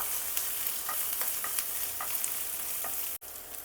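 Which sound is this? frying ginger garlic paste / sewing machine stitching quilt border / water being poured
frying ginger garlic paste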